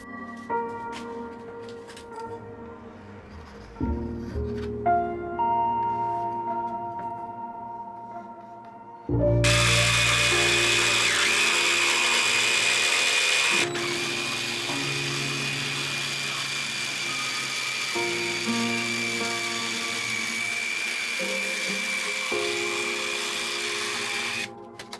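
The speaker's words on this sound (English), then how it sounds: "Once dry, I marked out my seat outline and cut with a jigsaw" A jigsaw cuts a marked seat outline from layered glued wood in a woodworking shop, a loud buzzing roar that runs steadily for several seconds after quieter handling noises, then continues at a slightly lower level.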